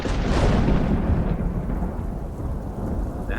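Heavy rain pours down steadily in a thunderstorm, a dense hiss of drops mixed with low rolling thunder that swells early and then eases into a constant downpour.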